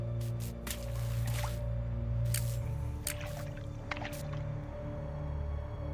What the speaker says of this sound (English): Oh, oil's dripping.